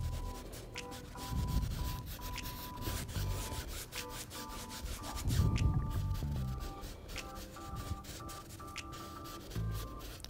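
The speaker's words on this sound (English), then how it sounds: "we're just going to go in and scrub a little bit in here and there, And then we're gonna rub it around." Paintbrush scrubbing and rubbing paint across a canvas while laying in an autumn scene background, heard as close, repeated scratchy strokes with brief louder bursts.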